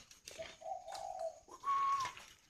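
A single dove coos in a short, quiet sequence, a few soft hooting notes followed by a longer, clearer drawn-out call, with no talk over it.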